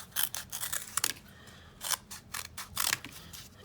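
Scissors snipping strips from a piece of cardboard, a run of sharp, close crunching cuts in irregular bursts with brief pauses between them.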